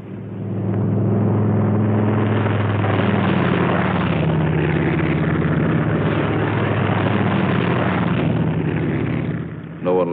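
P-47 Thunderbolt fighter-bombers of a World War II squadron in Italy taking off, a loud sustained piston-engine roar with low droning harmonics that holds steady for most of the stretch before dropping away near the end.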